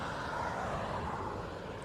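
A Ryanair airliner departs Dublin Airport bound for Murcia, its engines a steady broad roar heard from a distance with no voices.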